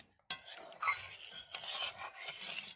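A utensil scrapes and stirs pabda fish curry in a pan with steady, close scraping and light clatter, and a faint sizzle underneath, with no talking.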